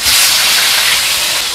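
Hot oil sizzles steadily in a pan heated for frying fish, a loud, continuous close hiss with no break.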